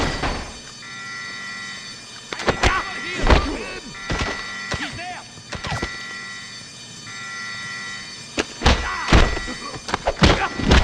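Melee takedown thuds in the video game James Bond Bloodstone: a run of heavy, punchy impacts and thumps in uneven clusters, some doubled, over a steady low game soundscape with whooshy effects, no speech.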